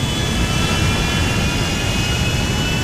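Airplanes flying in the video game GTA 5, heard as a steady, loud, continuous jet engine roar with no breaks.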